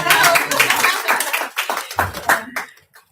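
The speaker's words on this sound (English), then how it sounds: "I think that deserves a round of applause." An audience at a GAH Elite event claps in a short round of applause, brisk and close at first, then thinning into scattered claps that fade out within about three seconds.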